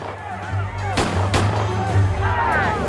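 Several sharp gunshots ring out at a street scene during an organized civil-rights event, two loud cracks close together and a fainter one later, over a constant low hum and crowd noise.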